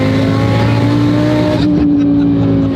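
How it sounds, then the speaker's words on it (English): A modified Dodge Viper race car revs loudly up close with a steady, strained engine drone that shifts pitch about midway, a continuous roar dominating the whole stretch without talk. "we're about to go for a quick rip in this spicy Viper right here"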